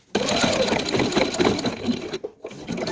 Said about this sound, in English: I'm going to sew down about 1 inch with a straight stitch